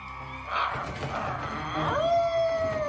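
Titeuf, a cartoon boy turning into a dog-werewolf under the full moon, gives scuffling growly sounds, then a single sustained, rising howl that holds steady to the end, moderately loud.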